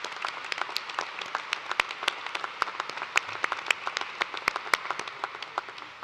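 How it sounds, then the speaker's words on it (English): Applause from a university commencement ceremony audience, steady scattered clapping with sharp individual claps standing out, moderately distant and sustained throughout. "So please give Ms. Changari another round of applause"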